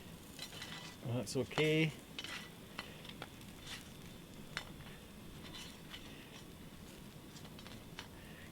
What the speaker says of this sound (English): It's just the butter burning.